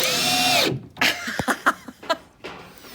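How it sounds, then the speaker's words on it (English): A power drill drives a screw into wood while a raised garden box with metal siding is being built. One close, loud whine is followed by a few soft knocks and taps. "once I've pierced that wood, screwing it down is pretty easy"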